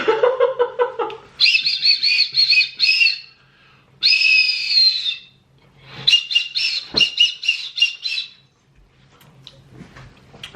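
A toy candy whistle from 1970s sweets is blown in a series of shrill, warbling bursts, each a second or two long and separated by short pauses, loud and close with no talk.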